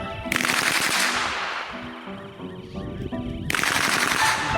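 Full-auto gunfire ripping in two long sustained bursts, loud and close, with a brief lull of quieter rattling between them.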